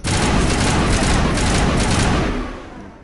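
Sustained assault rifle fire in the video game Mass Effect Legendary Edition, a dense loud automatic burst lasting nearly three seconds before fading out.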